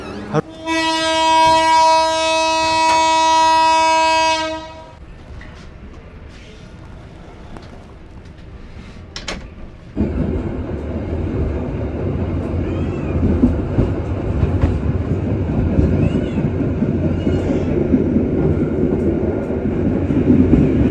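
A train hauled by a CC201 diesel locomotive sounds a long, loud horn blast, then goes quiet before a steady rumble and rattle of the carriages starts up as it runs through Simpang station without stopping.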